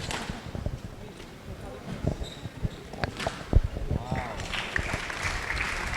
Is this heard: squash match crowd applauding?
yes